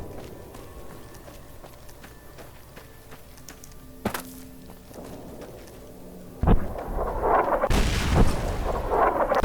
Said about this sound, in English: You can just get to listen to this nice barrage.